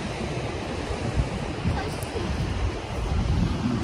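Pacific Ocean surf and wind on the Oregon coast form a steady, dense roar of wash and gusting wind buffeting the microphone, loud and continuous with no voices.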